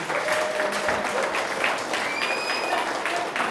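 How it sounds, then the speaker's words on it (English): Audience applause at a memorial tribute for Winston Dyer Jr. in a ballroom: steady, dense clapping from a crowd, sustained throughout at moderate loudness with faint whistles over it. "A lot of applause for Winston Dyer Jr.,"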